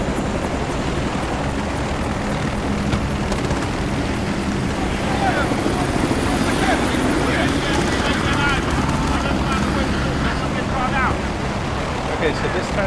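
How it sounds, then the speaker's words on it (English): In the Battlefield Bad Company 2 campaign, a helicopter roars in over constant wind-like rotor wash and battle noise, loud and unbroken throughout, with faint shouting in the mix. "Chopper inbound!"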